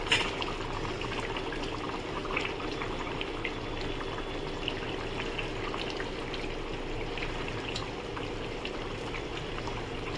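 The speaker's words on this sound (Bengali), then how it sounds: "সব মাছগুলো দিয়ে দিলাম, এগুলো ফুটুক" A pot of Bengali fish curry with ridge gourd and pointed gourd, rohu pieces in it, simmers steadily with a constant low bubbling and watery hiss throughout, no voices over it.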